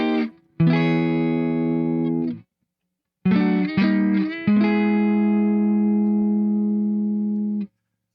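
Clean-tone electric guitar chords on a Melonare GA-S2-5 strummed one at a time, each ringing out and decaying cleanly, with a brief silence between the first and later strums.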